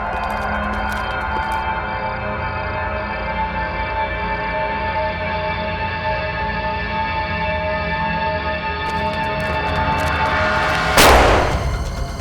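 A loud explosion effect in a Hindi crime drama, a steady dense rumble that swells and ends in a sharp blast burst near the end, with no talk over it.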